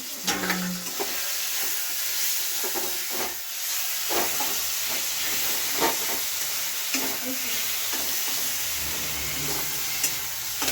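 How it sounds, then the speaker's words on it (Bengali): A home cook fries food in a pan, giving a steady sizzle and hiss with scattered stirring scrapes and clinks. The sound is moderately close, and faint voices are briefly heard in the background. "এদিকে মা রান্না করছিলেন"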